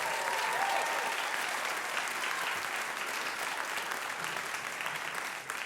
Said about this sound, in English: Give Tom a big round of applause.